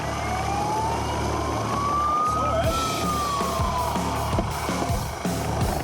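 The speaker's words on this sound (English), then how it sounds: "The Westpac rescue chopper sounds a warning siren." A Westpac rescue helicopter sounds a warning siren over the beach, one long rising then falling wail standing clearly above steady rotor and surf noise.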